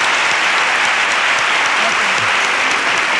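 Loud, dense applause from a live audience greets a guitarist at a Spanish copla performance, continuous and close for the whole stretch.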